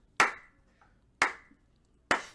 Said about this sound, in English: when Raiden shows up and he starts clapping